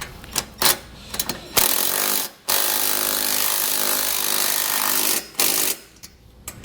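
Hitch bolts on a 2017 Volvo V90 are run down with a 3/4 inch socket, giving a loud, steady rattling buzz that holds for about three seconds, framed by short bursts and clunks before and after.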